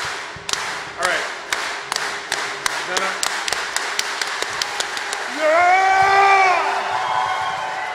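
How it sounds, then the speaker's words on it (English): An audience at a Rooster Teeth live Let's Play show starts a slow clap, single claps spaced out then speeding up into quick rhythmic clapping, before cheering and whooping voices swell over it. "This level of clapping implies that there will be an actual competition that's about to happen."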